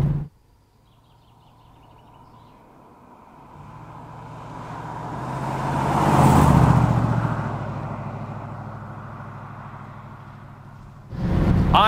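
A Jensen Interceptor with a carburetor fueling problem and a misfiring engine drives by outdoors, its engine noise swelling to a peak and then fading away, with no talk over it.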